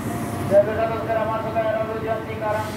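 A KRL commuter train passes close by, a steady rumbling rush with faint squealing tones, heard from aboard an Argo Cheribon train travelling from Cirebon toward Gambir, with a voice talking over it.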